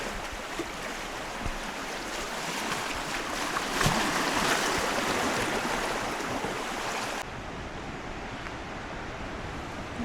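Waves wash steadily onto a small deserted beach on Koločep island near Dubrovnik, a continuous broad surf rush with some wind buffeting the microphone, no voices.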